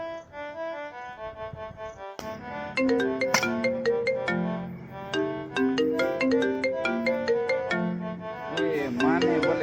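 A melodic mobile phone ringtone plays continuously. It starts with a softer sustained tone, then becomes a louder, rhythmic run of bright chiming notes that repeats for several seconds, heard in a short comedy film.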